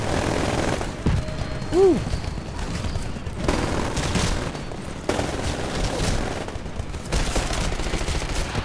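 Rapid automatic pistol fire in the Titanfall PC beta, bursts of close, loud shots cutting in and out over game noise and explosions, with a player cheering and talking excitedly over it.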